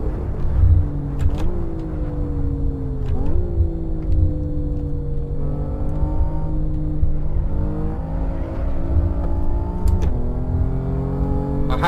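A BMW M3 in Assetto Corsa runs laps on a track day with a steady, loud engine drone. Pitch rises through each gear and drops at the shifts, several times in a row, and nobody speaks.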